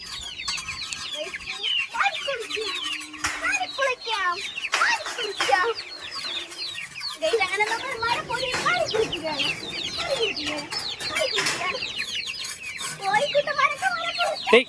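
Backyard chickens with chicks crowd close around someone feeding them, clucking and peeping busily and continuously, with scattered louder squawks and some background human voices mixed in.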